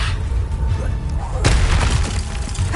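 A Confringo fire spell in Hogwarts Legacy explodes in a sudden loud, broad blast with a deep rumbling boom, rising out of ongoing game noise partway through.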